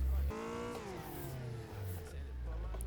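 Simulated car engine in a VR drifting racing game, revving hard with pitch sweeping down and back up through a slide, tyres scrubbing beneath and a voice talking over it at times.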